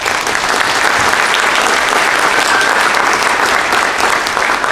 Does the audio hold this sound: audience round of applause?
yes